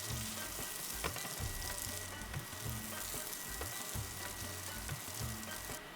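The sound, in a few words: Big Mountain Cauli Crumble veggie grounds frying in pan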